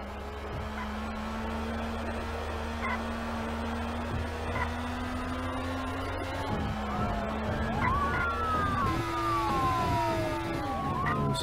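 Wailing police sirens in the video game Duty Driver Police rise and fall over a constant engine drone, several overlapping, loud and continuous, with no talking.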